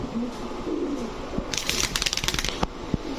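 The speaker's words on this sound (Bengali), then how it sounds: "অনেক বড় সাইজের এক জোড়া রেসার কবুতর" Large racer pigeons coo in low, repeated calls at close range. Midway through comes a burst of rapid fluttering and shuffling, wings flapping or birds scrambling about, before the soft cooing carries on.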